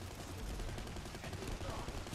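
Rapid submachine gun fire in the shooter game Planetside 2 crackles as a dense, continuous burst of overlapping shots, busy and fairly quiet throughout.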